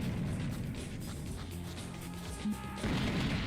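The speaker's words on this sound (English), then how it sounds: "give him the old rocket launcher treatment" Rocket launcher blasts from the shooter Serious Sam Fusion, a dense booming rumble of explosions with a sharp crack near the end, loud and continuous with no talk.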